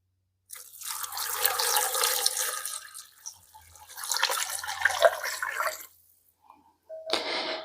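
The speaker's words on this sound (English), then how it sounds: "Into this, I'm going to go in with 6 cups of chicken broth." Chicken broth pours steadily into a soup pot, a close, continuous liquid splashing that pauses briefly midway, resumes, then cuts off before a short final splash.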